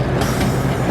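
A miniature train pulled by a 1/3 scale replica of the CP Huntington locomotive rumbles steadily close by, with a continuous low rolling noise and a brief brighter swell partway through.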